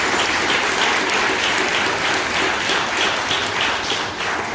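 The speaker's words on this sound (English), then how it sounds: "Give yourselves a round of applause for that." A campaign kickoff crowd for a 2020 congressional run breaks into loud, sustained applause, a dense wash of many hands clapping steadily throughout and dipping only slightly near the end.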